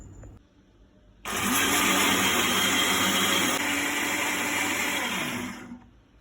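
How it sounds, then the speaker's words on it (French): Blender whirring steadily as it mixes an oat milk soap mixture with distilled water, switching on abruptly, running loud and close for about four seconds, then winding down. "Voilà, et je vais mixer. Je vais bien mixer."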